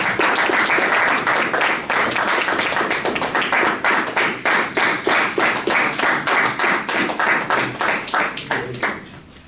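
Audience applause welcoming a speaker at a Toastmasters meeting: steady, dense clapping from a room of people that turns into slower, rhythmic claps in unison before fading out.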